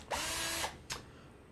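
A power drill whirs in one short burst of about half a second, then gives a brief second pulse, drilling into a bicycle frame to fit a motorized bicycle engine mount, close and alone with no talking.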